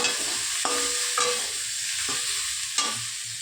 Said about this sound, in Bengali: তো চলো ভেজে নিই, তারপর জল দেবো।